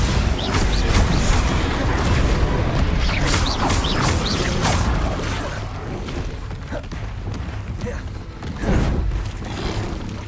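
The Bombarda blasting spell in the video game Hogwarts Legacy, with booming thumps, whooshes and crashing debris in dense, loud combat action, steady for several seconds then easing before a final burst.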